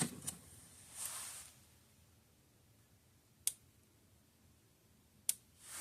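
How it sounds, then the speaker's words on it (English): A Fi-Shock SS-1000 electric fence energizer clicks in a quiet room, sharp isolated ticks spaced about two seconds apart, following a short burst of crackle at the start. "There it goes, clicking nice and steady"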